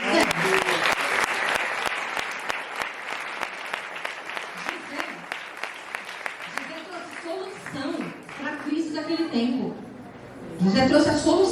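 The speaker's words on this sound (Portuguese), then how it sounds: "Vamos dar uma salva de palmas para José?" A church congregation claps together in a dense, steady round of applause for several seconds; it tapers off as voices and talk take over near the end.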